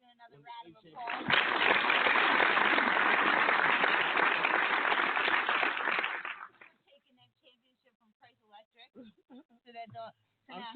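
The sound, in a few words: round of applause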